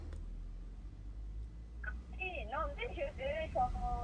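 A telephone rings and chirps softly during a call, faint electronic tones, with a voice talking nearby.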